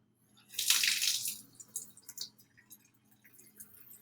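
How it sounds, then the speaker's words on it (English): A kitchen faucet opened to a slow trickle gives a soft splashing rush of water that swells briefly and then settles into faint drips and light splatters. "So I'm going to turn my faucet on very slowly, just so that it's kind of like at a trickle."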